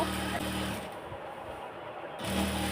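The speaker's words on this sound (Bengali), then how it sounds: "দুই পাশে চাপ সেলাই দিচ্ছি।" Sewing machine running steadily while stitching georgette fabric on both sides, a continuous close mechanical whir that briefly eases in the middle, with no talk.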